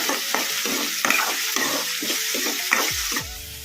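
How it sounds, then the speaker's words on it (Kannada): Onions fry over a medium flame while a spoon stirs them in repeated scraping strokes, loud and close above a continuous sizzle, with a sharper clatter near the end. "ಮೀಡಿಯಮ್ ಫ್ಲೇಮಲ್ಲಿ ಇಟ್ಕೊಂಡು ಫ್ರೈ ಮಾಡ್ಕೊಂಬಿಡೋಣ ಉಳ್ಳಾಗಡ್ಡಿನ ಈ ಥರ ಕಲಿಸ್ಕೊಂತನೇ ಇರಬೇಕು"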